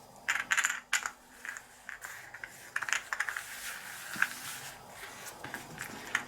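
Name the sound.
shuffling board game action tokens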